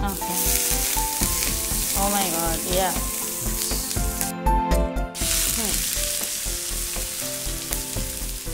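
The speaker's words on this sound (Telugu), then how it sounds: "ఫస్ట్ ఆనియన్స్ మనం ఫ్రై చేసుకుందాం." Onions frying in hot oil in a pan give a steady, close sizzle throughout, heard under prominent background music.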